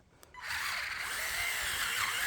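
A low-torque cordless screwdriver, rated at about 4 newton-metres, drills into wood. After a faint click it starts a steady, close whirring grind that holds level to the end, with no voices.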